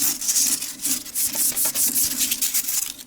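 Steady back-and-forth rubbing and scrubbing on old steel kitchen clock parts from a vintage Ansonia clock, cleaning off years of built-up gunk, with close, continuous strokes in an uneven rhythm and no talking.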